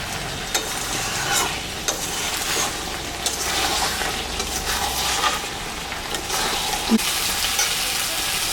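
Mutton and potatoes stir-fried in a pan for mutton kosha, a dense close sizzle with continuous scraping and stirring knocks from the spoon against the pan.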